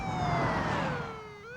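Ambulance siren from a 1992 TV advertisement for an ambulance subscription service, a loud wailing tone sweeping steadily downward and then jumping back up near the end, heard alone without voices.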